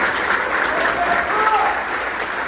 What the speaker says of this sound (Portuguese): Uma salva de palmas para você que veio hoje aqui.